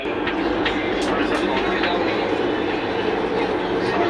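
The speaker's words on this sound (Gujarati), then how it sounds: "મેટ્રો મસ્ત મેટ્રો ટ્રેનમાં બેસી ગયા છે" A loud, steady rumble and rush of a Mumbai metro train in motion, heard from inside, fills the whole stretch, with a constant hiss and faint rattles throughout.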